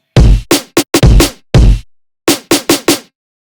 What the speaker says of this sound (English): and here's the snare.